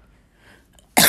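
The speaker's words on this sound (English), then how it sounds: "I just coughed there." A single short, loud cough bursts out abruptly near the end, following a quiet stretch of faint room noise.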